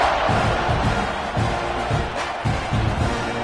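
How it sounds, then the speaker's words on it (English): Football stadium crowd at a Sooners game roaring before the kickoff, a dense, steady wash of cheering and shouting that stays loud across the whole stretch. "this crowd now ready to get behind them"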